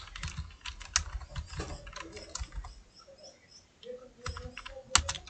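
Quiet, steady clatter of keystrokes on a computer keyboard while text is typed into a Word document, heard alone with no voices.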